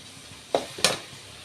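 A spoon scrapes twice through onion thokku in a pan as roasted mustard-fenugreek powder is mixed in, giving two short, close stirring strokes over a faint sizzle.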